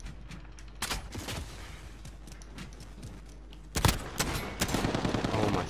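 Bursts of automatic gunfire from a Call of Duty Modern Warfare Gun Game match, rapid crackling volleys in several clusters that grow denser and louder toward the end.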